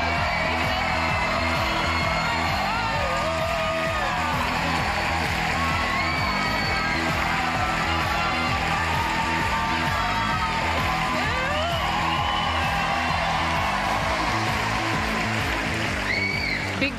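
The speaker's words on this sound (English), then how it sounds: "Give her a big round of applause as Zoe" A live studio audience at the Big Brother Australia 2012 launch night cheers, whoops and applauds for Zoe, a continuous loud crowd roar sustained throughout.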